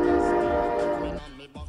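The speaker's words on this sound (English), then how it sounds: "I never want to hear a train again." A loud train horn blares steadily, close and powerful, for most of the moment before cutting off abruptly, followed by a brief low rumble.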